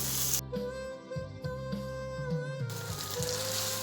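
Chopped tomato sautéing in a pan with well-caramelized onion, a steady close sizzle with a few stirring scrapes and knocks, while a tonal music bed with a melody runs alongside, no talking.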